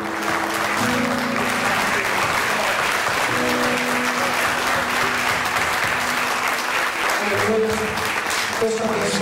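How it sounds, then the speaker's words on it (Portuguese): Loud, sustained applause from a church congregation during a Portuguese-language worship service, steady clapping filling the whole stretch with some voices over it. "Vamos aplaudir bem forte ao Senhor Jesus Cristo."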